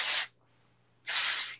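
Oribe Apres Beach Wave and Shine hair spray is sprayed in two short, close, hissing bursts separated by a brief pause.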